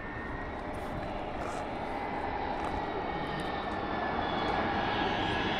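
A jet airliner lands at Rome Fiumicino, roaring steadily overhead, a broad continuous engine rumble with a faint whine, holding at a fairly constant level from a distance.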